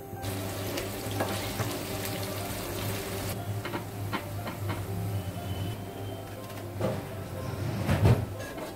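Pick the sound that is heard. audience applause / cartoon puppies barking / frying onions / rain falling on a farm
frying onions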